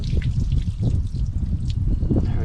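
Water leaks from a hot water tank's pressure relief valve, a steady close trickle and dribble with faint drips running throughout, over a low background rumble.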